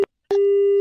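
A telephone busy tone sounds right after a call is hung up during a prank call on a radio show: one short beep, a brief silence, then a long steady tone that runs to the end, clear and alone.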